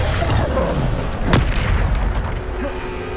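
A Bombarda spell explodes in the Hogwarts Legacy video game during a battle with trolls, one sharp boom rising above a dense, continuous din of game combat noise.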